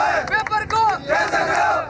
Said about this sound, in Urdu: اپنے فیورٹ وزیر تعلیم کے خلاف نعرے بازی بھی کی۔